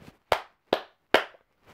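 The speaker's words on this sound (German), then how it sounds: "Erstmal klatschen so." Three sharp hand claps spaced about 0.4 seconds apart, close and fairly loud, with a softer fourth clap trailing at the end.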